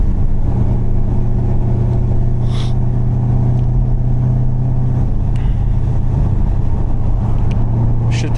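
Camaro Z28 engine with a leaking exhaust droning loudly and steadily from inside the moving car, a constant low rumble throughout with no clear revs.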